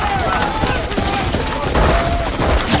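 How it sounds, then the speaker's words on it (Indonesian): A gunfight in the action film The Bee comes through as rapid, loud bursts of gunfire with sharp overlapping shots and impacts, set against a busy cinematic mix. "Tim Pettis yang mengetahui Clay sudah di dalam pun kembali dan baku tembak pun tak terhindarkan"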